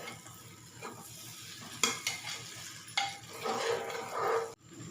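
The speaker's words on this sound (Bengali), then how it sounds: "চালটা ভাজা হয়ে গেছে।" Gobindobhog rice is stirred and fried in a pot for chicken kacchi polao, giving close sizzling with repeated spoon scrapes and clinks against the metal before an abrupt stop.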